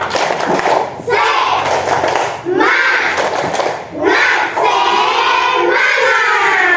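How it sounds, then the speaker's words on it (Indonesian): A class of children clapping and chanting a rhythmic cheer together, loud and lively, in repeated bursts with short pauses between. "Ayo kita beri tepuk semangat untuk kita semua."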